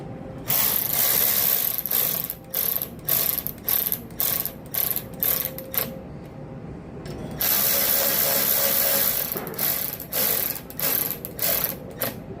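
Ratchet wrench tightening a bolt on a lawn mower engine during carburetor and fuel system work, giving rapid rhythmic clicking strokes in two long runs split by a short pause, up close and loud.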